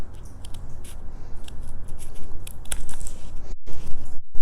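Scissors snip across paper corners while trimming a card tag for an accordion tag album, a run of close, crisp cuts with quiet gaps and two brief pauses near the end.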